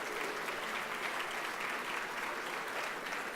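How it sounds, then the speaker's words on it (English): Sustained, dense applause from a large audience at a fundraising dinner for the Sitt family, steady and even throughout with no voices over it. "Another big round of applause for Roger Sitt and the Sitt family."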